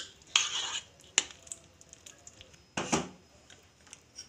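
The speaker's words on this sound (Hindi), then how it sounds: "अब इसमें मैं बूंदी डालूंगी। और इसे अच्छे से मिक्स कर लूंगी।" A spoon clinks against a bowl while boondi is stirred into spiced yogurt raita, with several distinct scraping knocks and soft wet mixing sounds in between, close and fairly quiet.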